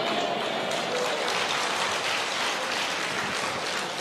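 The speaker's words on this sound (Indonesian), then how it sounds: "Nggak usah tepuk tangan." A church congregation applauds during a sermon, a steady wash of clapping heard at moderate distance, fairly faint and even throughout.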